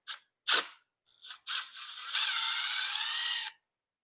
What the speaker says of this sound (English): And you also need to get your ESC unplugged or unbolted.